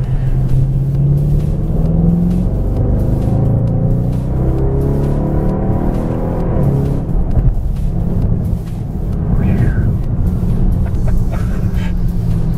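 A Bentley Continental GT V8 S engine under light throttle while driving, with a deep, steady rumble and road noise filling the cabin and rising slightly now and then.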